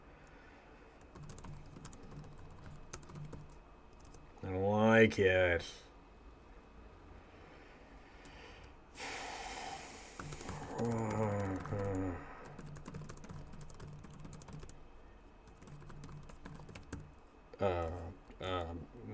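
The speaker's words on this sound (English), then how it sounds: "I wonder how loud the typing is into the microphone, which is immediately above the keyboard." Faint clicking of keys being typed runs through the background, with someone speaking briefly in between and a short burst of louder noise midway.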